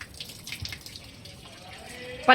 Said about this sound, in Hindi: उसमें डालो, प्लांट में डालो ना, मनी प्लांट में डालो